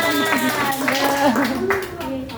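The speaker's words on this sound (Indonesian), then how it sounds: "Tepuk tangan kasih ke Devan." Children clap hands at a storytelling session while voices talk over the clapping throughout.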